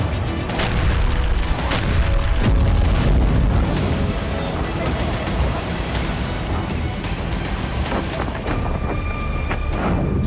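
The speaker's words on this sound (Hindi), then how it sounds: "कुछ ही मिनटों बाद आसमान में कई मिसाइलें दाग दी गई और यूक्रेन के कई इलाके धमाकों से कांप उठे।" Missile strikes and explosions across Ukraine, heard as a continuous loud barrage of booming blasts and rumbling impacts with sharp cracks scattered throughout.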